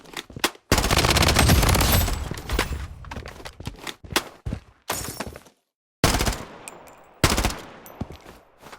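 Gunfire in the battle royale video game Blood Strike: rapid automatic bursts and single loud shots, close and sharp, separated by brief silent gaps.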